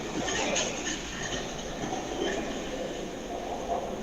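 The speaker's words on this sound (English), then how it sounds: "A train that sounds like it has a transmission." An old linear induction motor train passes with a continuous rumbling, rattling rail noise and faint high whine, steady and fairly close throughout.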